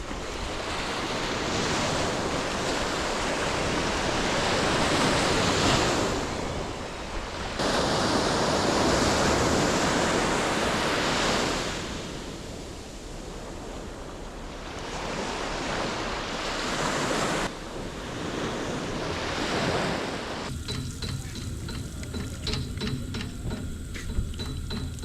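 Ocean waves on a Gibraltar beach surge and recede in long, loud washes of surf, each swell building then easing, with wind buffeting the microphone and a slightly thinner, choppier stretch of sea near the end.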